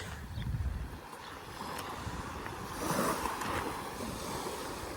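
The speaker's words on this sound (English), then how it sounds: "Sitting out here on an evening, listening to the water is brilliant." Water washing steadily against the shore in Spain on an evening, with a soft wind rush, continuous and fairly close, no voices.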